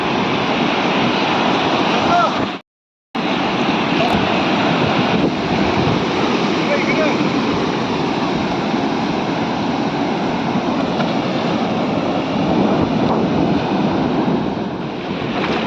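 Sea waves at Nagaon beach make a loud, constant wash of surf mixed with wind buffeting the microphone, broken by a brief silent gap early on.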